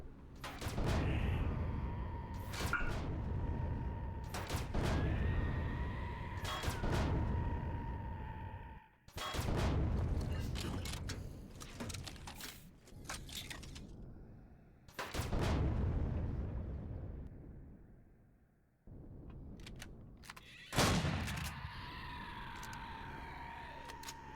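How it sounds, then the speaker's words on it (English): An AoE cannon fires in the video game Empyrion - Galactic Survival, a run of loud, booming blasts in quick bursts separated by short pauses, with sustained rumbling tails and a tonal whine between volleys. "I'm going to engage with my AoE cannon"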